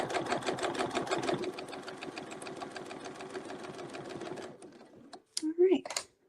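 A sewing machine stitches a seam back down with a quick, even mechanical rhythm for several seconds, then stops; a brief voice follows at the end.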